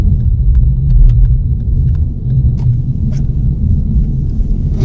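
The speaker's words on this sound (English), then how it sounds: "clutch in, brake, second gear, first gear, brake off, clutch up" Manual transmission car downshifting from third through second to first gear with clutch and brake while slowing before a driveway, heard from inside as a steady low engine rumble with faint clicks and rattles, no talking.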